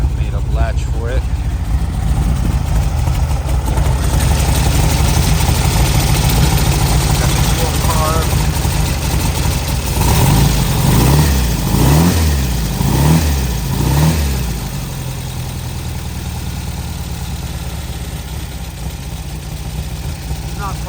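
A 1957 Porsche Speedster replica engine, just out of the barn, idles on a cold start, then blips the throttle in several loud revs near the middle before settling back to a rough, steady idle.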